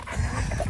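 A happy American Bully dog makes a short, close whimpering whine over a low rumbling background, with no talking.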